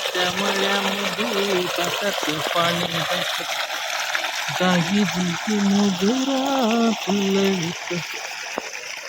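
Water flows steadily to irrigate a field of native grass fodder, a constant rushing trickle heard under someone talking throughout.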